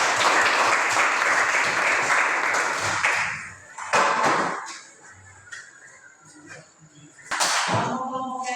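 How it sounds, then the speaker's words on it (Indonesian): A classroom gives a student group a round of applause: dense clapping from many hands fills the first few seconds, then fades into quieter room noise and scattered voices, with a brief burst near the end. "Kita berikan tepuk tangan untuk kelompok Ansal."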